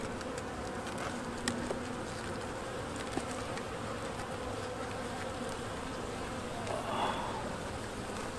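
Honey bees buzzing around an open beehive during a hive inspection, a continuous low hum of many insects heard close and steady, with occasional faint handling noises.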